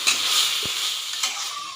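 Half a kilo of pork cooks with garlic in a hot pan for a Bisaya halang-halang dish: an even, bright sizzle close by, with a single soft knock of a utensil partway through.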